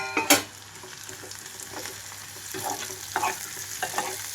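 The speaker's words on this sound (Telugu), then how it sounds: "3 వంతుల పాటు ఆ కాకరకాయ ముక్కలన్నీ ఇందులోకి వేస్తున్నాను" Bitter gourd pieces frying in a pan, a steady close sizzle broken by repeated spatula scrapes and stirring knocks, with one sharp clank early on and no talking.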